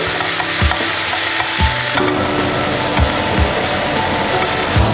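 Onions fry for omurice in a pan over a steady crackling sizzle, with a few sharp spatula scrapes and clacks landing at irregular intervals close by; no voices.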